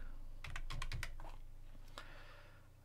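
Computer keyboard typing a superuser password during a Debian 9 installation: a quick burst of several keystrokes followed by a few isolated taps, close and fairly faint, with no talking.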